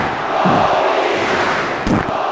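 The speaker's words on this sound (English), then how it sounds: "And again, the crowd gets loud." Loud wrestling crowd cheering and roaring continuously at an arena show, a dense sustained wall of voices with a brief surge near the end.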